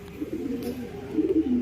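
A racing pigeon from the Grizzle family, just back home from a 350 km race, coos in low, steady murmurs, close by and alone.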